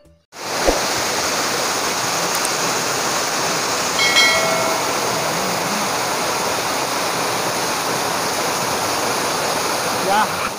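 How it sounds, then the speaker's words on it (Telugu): Chintala Madara waterfall near Tiryani in Komaram Bheem Asifabad district, a loud, steady, close roar of falling water that holds unbroken for about ten seconds. "చింతల మాదర వాటర్ ఫాల్ ఎక్సలెంట్గా ఉంది."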